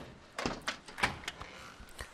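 A door opening in The Walking Dead video game, heard as a short run of soft knocks and thunks close by, with no talk over it.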